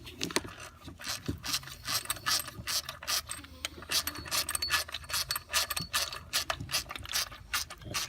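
A ratchet loosening a pulley bolt on a Dodge Nitro R/T 4.0 engine, with rapid repeated clicking pawl strokes in uneven bursts, close and fairly quiet.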